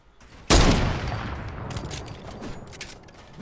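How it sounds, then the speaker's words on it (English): Gunfire in a video game: one sudden loud, close shot or burst that trails off into a reverberating rumble, followed by scattered fainter shots in the distance. "Where are those shots I was hearing?"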